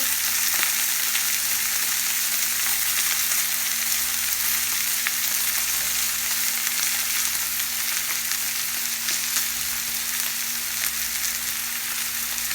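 Garlic and butter sizzling hard in a hot pan alongside seared filet mignon steaks, a loud, dense, continuous crackle with a steady low hum underneath and no talk.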